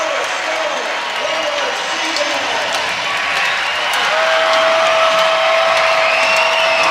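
A dense arena crowd at a women's college volleyball match between UCLA and Washington claps and cheers continuously, with whistles and shouts rising over a loud, sustained roar.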